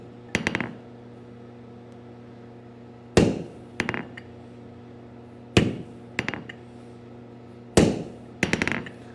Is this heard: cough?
no